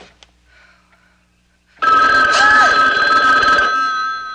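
A telephone bell rings loudly and steadily in a horror movie scene, bursting in after near silence and continuing as a sustained electronic ring.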